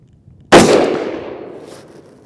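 A single loud rifle shot of Magtech 5.56 77 gr OTM fired from a 10.3-inch barrel cracks sharply outdoors, then a long echo rolls away and fades over about two seconds.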